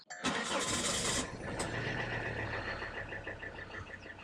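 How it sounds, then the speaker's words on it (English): A Volvo D5 diesel engine cranks for about a second, then catches and settles into a steady, loud diesel idle close by, with a brief sharp click partway through and no voices. "so let's give it a start."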